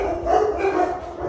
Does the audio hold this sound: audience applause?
no